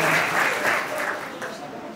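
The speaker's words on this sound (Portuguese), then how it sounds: "Uma salva de palmas, rapaz!" Applause from a church congregation during a sermon, steady dense clapping that stays at a fairly even level for the full two seconds with a slight fade toward the end.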